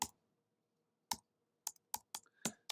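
Several sharp clicks from someone typing a short search query on a computer keyboard, with irregular keystrokes coming after a pause in an otherwise quiet room.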